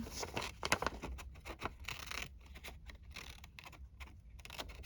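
Scissors snip paper for a tall narrow envelope in a quick, uneven series of close, crisp cuts and rustles, faint overall with no talking.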